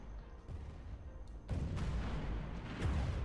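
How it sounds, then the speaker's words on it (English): Space battle explosions in the strategy game Stellaris, a low rumbling barrage of booms that swells sharply halfway through and keeps going off continuously, with no speech. "All the explosions fire. It's like continuously going off."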